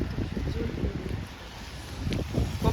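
Strong wind buffets the microphone outdoors in Syktyvkar, Komi Republic, a steady low roar and rumble running throughout with brief voices mixed in.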